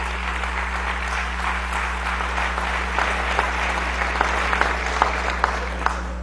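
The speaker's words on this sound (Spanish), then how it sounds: "Aplausos." Loud, sustained applause fills a Venezuelan National Constituent Assembly session, with individual sharp claps standing out more clearly near the end over a steady electrical hum.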